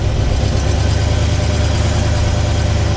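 A 1958 Studebaker Commander engine running steadily as the car drives, a loud, constant low rumble with no breaks, heard up close from inside with no talking.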